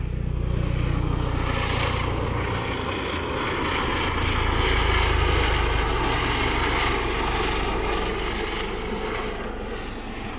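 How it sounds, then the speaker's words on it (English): A loud, steady helicopter rotor roar fills the air over a field, swelling slightly as the aircraft passes close and then easing off a little. "here comes the helicopter back again."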